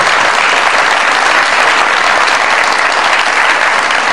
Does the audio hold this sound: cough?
no